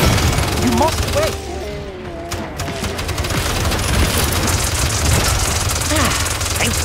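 Buster siege engine firing in the video game Paladins, a dense loud fusillade of booming shots over constant battle noise, with a brief lull partway through.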